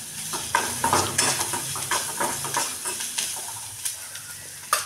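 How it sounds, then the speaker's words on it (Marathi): Halved chopped tomato sautéed in a pan, with steady sizzling and frying under repeated scraping and stirring clatters of a utensil against the cookware, close and fairly loud, no talk. "छान असं परतून घ्यायचं याला."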